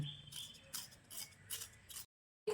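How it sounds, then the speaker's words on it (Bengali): Skins being scraped and peeled off new potatoes by hand, a series of soft dry scratching strokes in short bursts with pauses between, close and quiet, then a brief knock at the end. "তারপর নতুন আলুর খোসাগুলো আমি এভাবে একটু ছাড়িয়ে নিচ্ছি"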